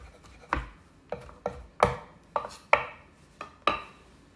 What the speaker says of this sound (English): I'm going to take the maitake and I'm going to mince those up a little bit further.